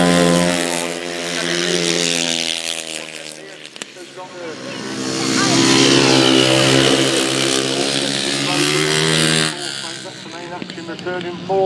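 500cc solo grasstrack motorcycles racing around a corner, a loud rising and falling engine howl as bikes pass close, with a commentator talking over the roar.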